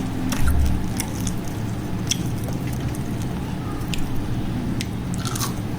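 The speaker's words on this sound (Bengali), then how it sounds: "আমি ভেঙে এর ক্রিস্পিনেসটাই দেখালাম" Crisp fried Sylheti nunia pitha, a salty pastry, snapping and crunching as it is broken apart, close and dry, with a few sharp cracks over a low background hum.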